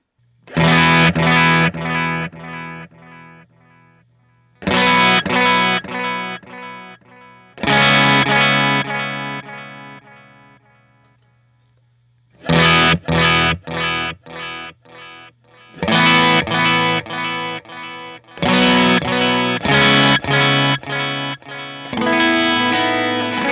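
Electric guitar through a Strymon El Capistan tape echo with tape age added: loud, distorted strummed chords in repeated bursts, each trailing into warbling echoes, with a sustained low note beneath and brief quiet gaps.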